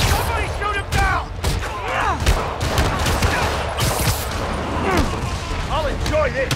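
Rapid gunfire and bursts aimed at Spider-Man in the video game Marvel's Spider-Man, loud overlapping shots and booms mixed with whooshes and game effects, with voices shouting over the action.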